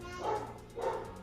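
Two short barks from a dog indoors in a family home, close by and fairly loud, spaced about half a second apart.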